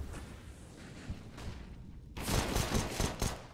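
P250 pistol fire during a Counter-Strike match on Mirage, a dense burst of shots crowding the second half after quieter background game noise.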